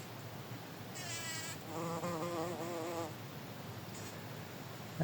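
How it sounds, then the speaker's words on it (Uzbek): Bees buzz in short bursts, a higher whine first and then a lower, steadier drone, close by over a quiet background, inside a winter strawberry greenhouse. "Arilarimiz changlayotibdi."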